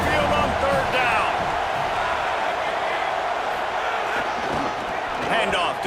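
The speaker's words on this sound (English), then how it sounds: "The Tide crowd rolling noise down on the Saban field on third down." Dense, steady roar of a packed stadium crowd at an Alabama Crimson Tide home game in College Football 27, surging loudly on third down with a continuous wash of noise and possible voices underneath.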